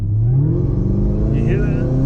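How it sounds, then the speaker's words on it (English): Chevrolet Camaro ZL1 with a supercharger and cold air intake, its engine revving loudly close by, pitch climbing smoothly and holding at a strong roar with a faint whine above, while someone talks. "It sucks a lot more air with this cold air intake."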